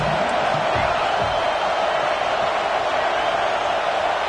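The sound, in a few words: football stadium crowd noise at Nebraska vs A&M game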